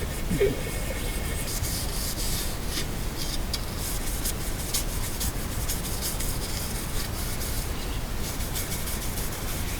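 Wet sanding by hand during work on a 1987 Chevy Suburban R20 with a 454 engine: a steady, continuous rubbing rasp with short back-and-forth strokes, fairly close and loud, with no speech over it.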